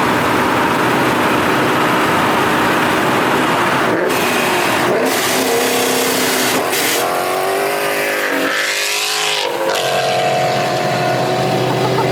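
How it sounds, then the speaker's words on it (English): A loud car engine revs and roars nearby, rising and dropping in pitch over steady road and engine noise. "He just revved at me and looked over"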